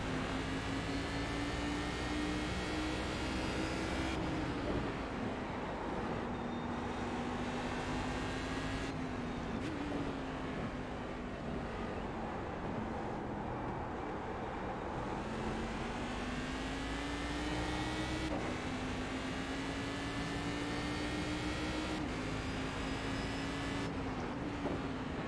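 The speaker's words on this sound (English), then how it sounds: "A little bit of a slide there on the second gear downshift." A Cadillac race car engine at Mid-Ohio in the iRacing simulation drones loudly and steadily throughout, its pitch rising through the gears and dropping at several downshifts, with no talking.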